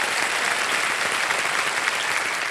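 A studio audience on a televised quiz game show claps loudly and continuously, a thick, even wash of applause with no voices over it.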